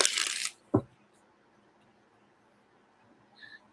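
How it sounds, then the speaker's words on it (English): A deck of cards being shuffled: a quick, loud, papery riffle lasting about half a second, then a single sharp tap, then near silence with faint room noise. "Shuffle this deck."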